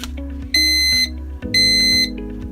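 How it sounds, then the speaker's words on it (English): An AccuTherm 8017 dual-probe vaccine temperature logger sounds its alarm in two loud, steady high-pitched beeps of about half a second each, close by, over faint background hum. "The alarm went off because our set points for fridge and freezer are lower than the ambient room temperature."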